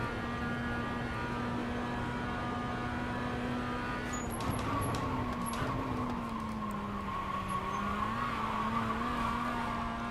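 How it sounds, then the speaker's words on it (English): Mazda MX-5 tires squeal steadily while drifting through a corner at Summit Point in a racing game, over a constant droning engine note, loud and unbroken with no talk. "I'm drifting there."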